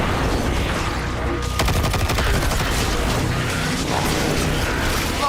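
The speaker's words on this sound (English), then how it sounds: "Who is still shooting at us?" Dense, continuous gunfire from an online shooter video game, a loud barrage of rapid overlapping shots and crashing impacts that runs for several seconds with no letup.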